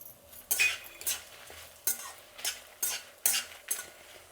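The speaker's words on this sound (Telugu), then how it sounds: "ఇప్పుడు ఇవన్నీ వేగిందండి." Coriander seeds, dried red chillies and dry coconut roasting in a pan, with a spoon scraping and stirring in a steady rhythm of about eight strokes over a faint sizzle, close and alone.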